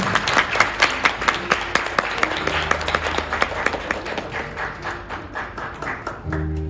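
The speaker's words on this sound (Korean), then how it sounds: "박수로 한번 응원해 주시는 것 어떨까요?" Wedding guests applaud the bride and groom as they bow at the ceremony, a crowd of quick, crisp hand claps that carries on steadily and then fades, with a low musical tone entering at the end.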